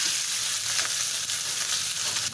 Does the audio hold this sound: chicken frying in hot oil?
yes